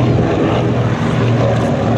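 Propeller airplanes fly past at an air show, a loud, continuous droning engine roar that fills the whole short stretch without pause.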